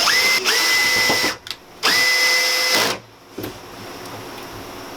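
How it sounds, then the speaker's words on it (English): A power drill drives a set screw into a rib nut hole in a truck bed, sounding as two loud whirring runs with a rising pitch, then stopping into quieter handling noise. "and drill it in."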